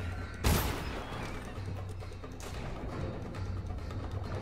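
Gunfire in the video game Dishonored, with a sharp loud shot near the start followed by scattered fainter bursts over a steady rumbling game backdrop.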